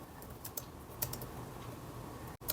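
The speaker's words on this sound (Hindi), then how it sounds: "मतलब आई एम टाइपिंग।" Quiet typing on a Lenovo ThinkBook G6 16-inch laptop keyboard, a soft, fast run of light key clicks heard close up with no talk.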